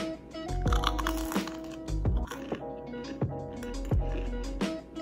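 Crunchy bites into crispy cinnamon-sugar churros, several sharp crackling crunches spaced through the chewing, close and fairly quiet, no talking.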